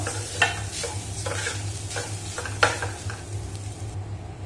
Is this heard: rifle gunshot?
no